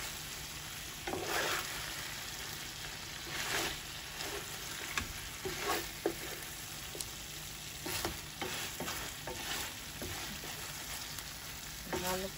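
Chicken wings for crispy buffalo wings sizzle steadily in a frying pan, with intermittent scraping and clattering as they are flipped, and nobody speaks.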